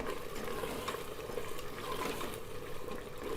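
Mutton liver masala being stirred in half a cup of hot oil in a pan, a steady close sizzle with soft scraping and bubbling throughout, no talk over it.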